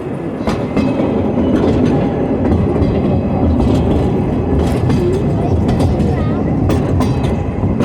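A train rumbles steadily along the rails in Astoria, Oregon, with rhythmic clacking, loud and continuous, with faint voices mixed into the noise.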